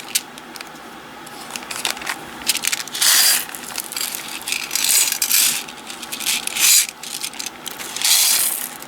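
Glass beads and pearls are scooped and poured back into a container, producing repeated bursts of bright rattling and crunching clatter, loud and close, with brief pauses between pours.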